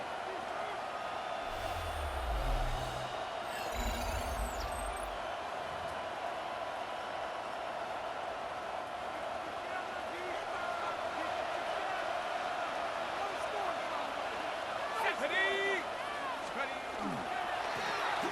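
Broad, distant stadium crowd roar in the American football video game Madden NFL 26, a steady wash of murmuring, with occasional thumps and brief whistles rising above it.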